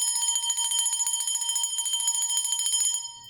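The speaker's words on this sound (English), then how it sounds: "I'm just going to ring the bell to anchor those energies in this beautiful" A small metal bell, rung for a spiritual energy-clearing ritual, chimes in rapid repeated strikes that blend into a sustained bright ringing, then trails off alone at the end.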